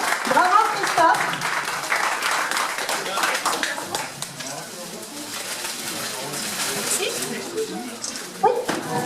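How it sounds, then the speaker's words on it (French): Outdoor crowd at a race event applauds a winner, with scattered clapping under ongoing talk and other background noise throughout. "Sylvie Christophe, on peut l'applaudir très fort."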